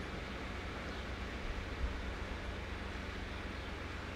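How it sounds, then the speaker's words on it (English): Electric fan running in a kitchen during a hot summer, a steady, faint broadband whoosh with no other sounds. "And you can probably hear the fan in the background here too."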